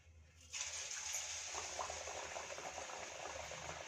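Jowar vadas dropped into hot oil, starting with a soft hush and then a sudden, steady bubbling sizzle that carries on close and even with no talking.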